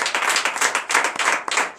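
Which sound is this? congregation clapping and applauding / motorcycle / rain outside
congregation clapping and applauding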